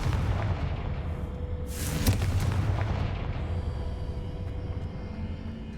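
A Confringo blast spell goes off in a video game: a single booming burst rises out of a steady low rumble of ambient game noise, then fades.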